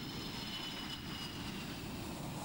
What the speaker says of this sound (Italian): Nelle ore di punta decolla o atterra un velivolo ogni 30 secondi